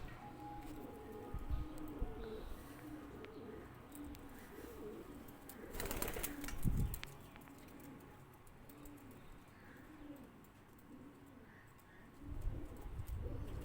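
Pigeons bred by a fancier coo repeatedly in soft rolling phrases at a loft in Bhara Kahu, Islamabad, Pakistan, alongside faint chirps, light rustling and a few thumps and flutters, with no one speaking.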